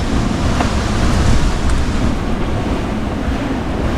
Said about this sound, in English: And all this weather around us is just whipping things up.